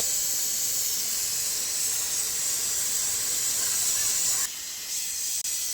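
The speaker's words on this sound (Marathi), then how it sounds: "इथे कुकरची शिटी होत आहे" A pressure cooker whistle in a home kitchen, a continuous loud steam hiss held for several seconds, close by, that cuts off abruptly near the end.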